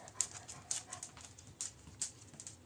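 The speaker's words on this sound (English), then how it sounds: "here comes my huffy dog." Up close, a chocolate Labrador huffs and pants in quick, uneven breaths, with light clicking sounds scattered through and no speech.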